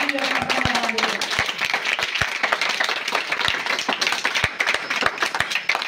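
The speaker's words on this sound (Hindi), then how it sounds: "तो इनके लिए भी ताली बजा दो भाई" An audience at a spiritual discourse claps in scattered, uneven bursts, with individual sharp claps standing out near the mic and a voice talking over them.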